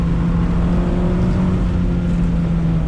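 A 2020 Mazda MX-5 Miata Club with a naturally aspirated engine pulling under throttle on track, a steady loud droning note from inside the car, continuous and alone.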